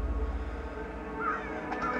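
Crows caw and flap away after being startled on a rainy spring day, a couple of harsh calls rising over a low background rumble.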